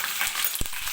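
Masala-stuffed capsicum (shimla mirch) hisses softly in a kadai, the quiet frying broken by one sharp clack partway through.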